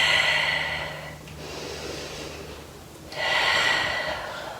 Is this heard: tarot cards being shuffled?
no